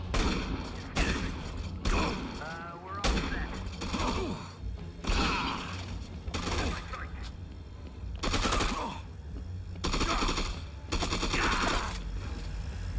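Repeated bursts of gunfire aimed at the player in Dead Rising 2, loud rapid volleys recurring every second or two across the scene, with game sounds filling the gaps.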